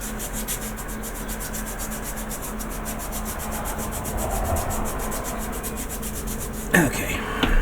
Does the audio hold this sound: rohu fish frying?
no